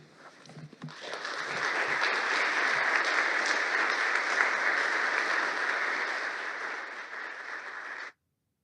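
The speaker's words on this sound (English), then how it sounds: "Another round of applause for these guys." An audience gives a round of applause, with a dense, sustained clapping that rises quickly, holds evenly for several seconds, then cuts off abruptly.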